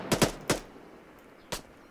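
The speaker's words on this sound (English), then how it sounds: "Yeah, he just shot at us." Airsoft gunfire during a milsim operation: three quick sharp pops in close succession, a brief pause, then one more crack, fairly faint against a quiet outdoor background.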